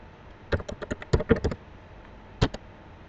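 A password is typed on a computer keyboard: a quick run of about ten soft, close keystrokes, a short pause, then two more taps in a quiet room.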